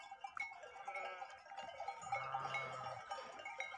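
Sheep bleating outdoors on a farm during milking season, a few short wavering calls over steady open-air background noise, moderately near, with no talk.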